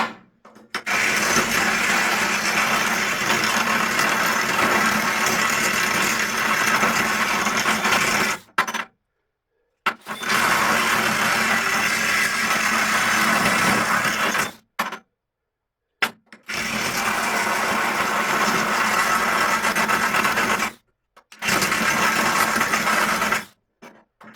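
A power tool grinds the galvanized coating off the inside end of a cut and flattened steel piece, loud and steady in four long bursts separated by short silences.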